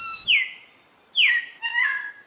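A lyrebird-like bowerbird mimics the calls of other bird species in a forest, giving a few loud, clear whistled and chirping notes in separate bursts with short pauses between them.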